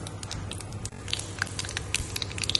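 Mustard seeds splutter and pop in hot oil in a pan, a quiet run of sharp crackles and scattered tiny bursts over a soft sizzling bed.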